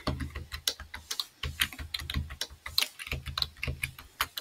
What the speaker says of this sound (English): So we're just manually typing the data in.